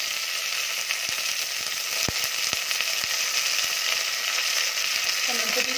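Whole spices (bay leaf, star anise, cloves, cinnamon, mace, fennel) and chana dal fry in hot oil for tomato biryani, a loud, dense, continuous sizzle up close with occasional sharp clicks and stirring.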